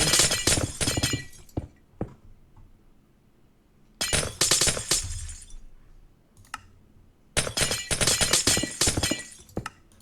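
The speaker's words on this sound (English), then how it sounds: "Is it the glass break?" Glass blocks shattering in the Minecraft Enigmatica 6 modpack, three separate bursts of crisp, crackling breakage with bright tinkling fragments, each followed by a short quieter tail, loud and close with no talk.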